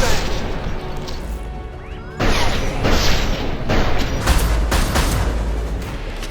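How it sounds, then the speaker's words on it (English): A flashbang grenade goes off in the video game Mass Effect 2, with a sharp crash followed by a dense, loud wash of combat noise and rumble that fills the rest of the clip. "Watch out, flashbang!"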